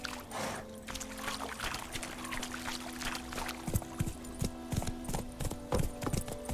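Horse hooves clip-clop in The Witcher 3 as Geralt rides his horse Roach, a steady rhythmic beat of moderate loudness running under game music and ambient sound.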